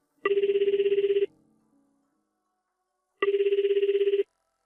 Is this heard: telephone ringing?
yes